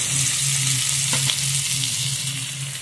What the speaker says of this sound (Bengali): এবার আলুটা একটু লাল লাল করে ভাজবো